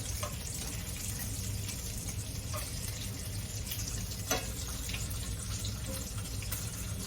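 Bacon frying in a pan on a home stove gives a steady, faint hiss and crackle with scattered small pops throughout, no voices over it.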